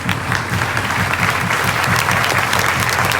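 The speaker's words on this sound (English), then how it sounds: "Can we all stand up and give him a round of applause today, please?" Dense, steady applause from a large school audience honouring the late Sir John Zacharaiah at a Cathedral High School event, a continuous loud wash of many clapping hands with no voices standing out.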